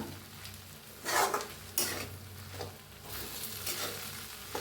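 Poha is stirred in a hot pan, a low steady sizzle punctuated by a few bursts of scraping and clinking as a spoon turns the flattened rice, close up with nobody talking.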